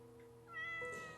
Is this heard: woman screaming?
no